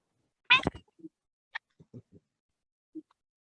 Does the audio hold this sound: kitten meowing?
yes